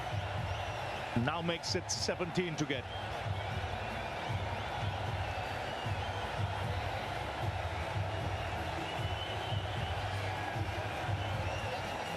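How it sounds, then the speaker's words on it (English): Stadium crowd at a cricket match roars steadily after a six is hit, a broad sustained wash of cheering with a commentator talking over it throughout. "With that 6, it's brought the crowd to its feet."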